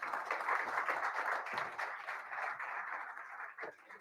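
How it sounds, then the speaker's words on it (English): A conference audience applauds presenters as they come up to the stage, a faint, steady patter of clapping that thins out toward the end. "Let's give them a round of applause."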